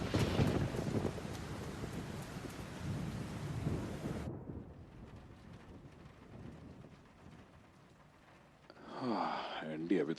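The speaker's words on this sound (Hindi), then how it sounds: "बाहर तो जोरों से बरसात हो रही है" Heavy rain pours outside in an animated cartoon, a loud dense downpour with thunder-like rumble that drops off sharply partway through, leaving a softer wash before a burst of other sound near the end.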